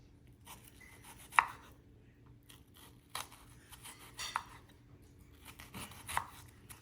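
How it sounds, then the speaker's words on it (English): A knife chops onions on a cutting board for cheesesteak egg rolls, with a handful of crisp, irregularly spaced cuts and soft crunches, close and fairly quiet, no speech. "Now I'm gonna chop my onions."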